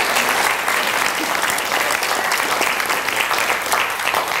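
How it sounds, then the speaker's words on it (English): A congregation applauds with steady, dense clapping that fills the room for several seconds without letting up. "give him a praise clap in this house if you believe that."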